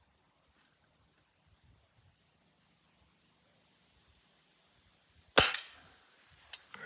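A Beeman 1022 dual-caliber air rifle fires a single sharp, loud report followed by a short rattling tail, heard close after a quiet stretch with a faint, regular chirping of insects or birds in the background.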